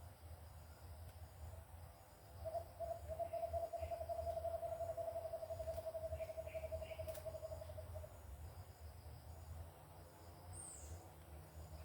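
A small owl or similar bird gives a steady, thin, faint call lasting several seconds in a rural hunting spot, over a constant low rumble of background noise, with no voices.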